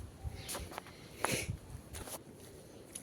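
Several soft, irregular footsteps scuff along a narrow overgrown path outdoors in rainy Konkan countryside, close to the listener, over a low steady background with no talking.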